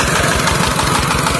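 A diesel engine drives a 6-inch centrifugal water pump at a shallow bore well, running close and loud with a steady, rapid low-frequency throb and no talk over it.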